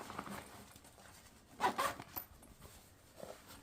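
Zipper on a Vera Bradley Ultimate Travel Case pocket pulled in one quick, close zip of about half a second, with faint handling rustle around it.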